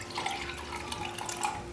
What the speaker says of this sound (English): then you're going to need to fill with some water.